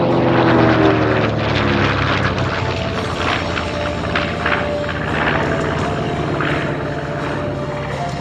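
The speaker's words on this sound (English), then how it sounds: "Look at this, ladies and gentlemen, the low high-speed pass of the B-25." A B-25 Mitchell bomber makes a low, high-speed pass at an air show, its loud piston-engine and propeller roar sweeping by with falling harmonic tones, steady and powerful throughout with no talk.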